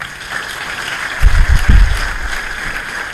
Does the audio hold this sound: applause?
yes